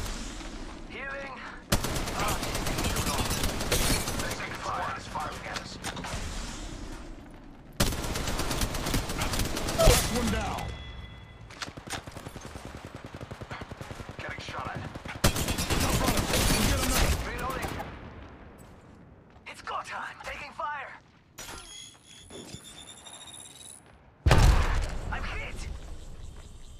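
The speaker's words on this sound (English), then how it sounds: "Taking fire, brothers." Gunfire in Apex Legends Mobile during a ranked match: loud bursts of rapid automatic shots come in several separate volleys, with quieter stretches between them and a final sharp burst near the end.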